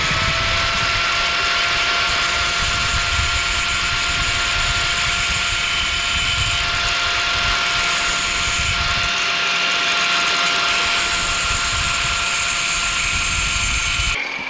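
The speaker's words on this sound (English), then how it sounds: "now I'm going to use this nice brand new abrasive cutoff disc for this part" A thin new abrasive cutoff disc on a power tool cuts into a fiberglass bike fender with light pressure, a loud, continuous high whine and gritty rasp that holds steady, briefly easing near the end.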